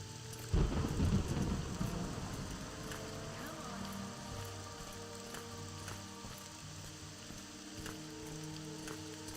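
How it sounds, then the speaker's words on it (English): Rain and a rumbling thunderclap in the video game Morrowind, with a loud thunder burst early on that rolls away beneath a steady hiss of rainfall lasting throughout. "And of course, the rain couldn't wait for us to finish with it."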